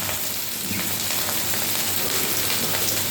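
Chopped tomatoes fry in hot oil for a Bengali rui fish curry with potato, pointed gourd and drumstick, giving a continuous close, even sizzle and crackle with no speech.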